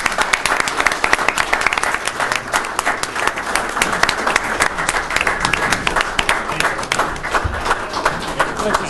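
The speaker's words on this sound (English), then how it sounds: "I think there's going to be some cheering" A town board meeting audience breaks into sustained applause after a vote, dense clapping filling the room at a steady loud level, with some cheering and voices mixed underneath.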